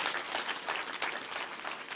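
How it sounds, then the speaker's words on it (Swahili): A crowd at a funeral in Kiambu breaks into steady applause, many hands clapping together in a dense, even patter heard at moderate distance for the whole moment. "Mpigieni makofi"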